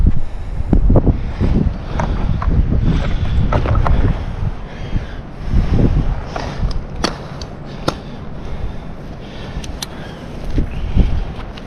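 Wind buffets the microphone high up in a tree during tree work, producing a steady broadband rushing with repeated gusts and bumps throughout, loud and close.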